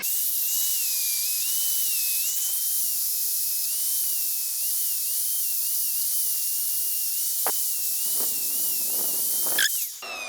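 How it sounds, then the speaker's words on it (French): An angle grinder cleans a BMX fork, its motor whining in a high steady tone with a wavering pitch throughout, loud and close, with a couple of brief scraping touches near the end. "On va prendre la meuleuse. On va nettoyer ça."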